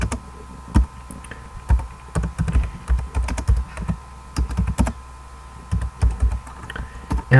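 Irregular clicks of computer keyboard keys as Python code is typed in, close and clear, with uneven bursts and short pauses and no talking.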